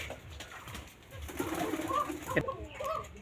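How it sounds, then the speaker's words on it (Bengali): Desi Koka pigeons kept in a village in Tanore, Rajshahi, cooing in soft low murmurs with a faint flutter of movement, steady and close throughout. "একটা ছোট ভাইয়ের কাছে তার কোকা কবুতর আছে কিছু সংখ্যক"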